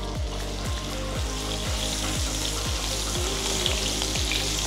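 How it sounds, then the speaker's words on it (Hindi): Steak sears in one pot over a high flame, a loud, dense, continuous sizzle close up, with a regular thudding rhythm running underneath. "स्टेक को दोनों तरफ से अच्छे से सेयर करना है ताकि एक अच्छा सा ब्राउन कलर आ जाए"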